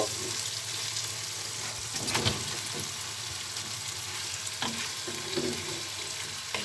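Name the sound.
chicken frying with cinnamon and cardamom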